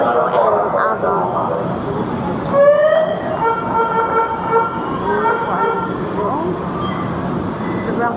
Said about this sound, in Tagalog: Sakay tayo ng LRT going to UN Avenue.